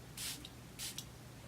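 Two quick hissing bursts of a fine mist makeup spray, close and soft, with a short pause between them.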